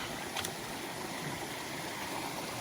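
Bull Branch, a creek in Linville Gorge, flowing steadily nearby: an even, unbroken rush of water with a soft gurgle underneath.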